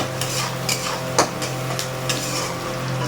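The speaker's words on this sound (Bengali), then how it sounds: "এই যে পেঁয়াজ ভাজা বসিয়েছি।" Onions fry in a pan and are stirred, giving a steady low sizzle over a constant hum, broken by repeated light scraping clinks of the spoon against the pan.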